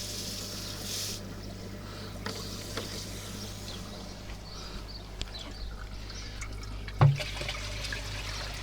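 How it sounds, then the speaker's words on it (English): Water trickling back into a koi pond filter tank through a valve, a soft steady flow with faint drips and a small knock near the end, fairly quiet and without voices. "And I can let the water back in."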